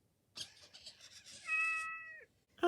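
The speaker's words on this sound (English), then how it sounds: "Metacat will meow and move his tail." A Metacat 2.0 robotic pet cat from Elephant Robotics gives a drawn-out electronic meow, alone and close, followed by a short sharp sound at the end.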